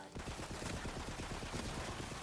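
A gun in Tiny Tina's Wonderlands fires projectiles in a quick steady stream of soft repeated shots, faint and continuous for a couple of seconds.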